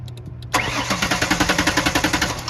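A Mercury Mountaineer engine with a new coil and a misfire cranks over after a few faint clicks, a fast rhythmic starter churn of about twenty loud, even pulses, close by.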